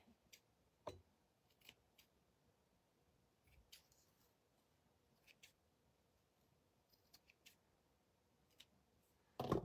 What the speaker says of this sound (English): let's trim this up because where some of these are fuzzy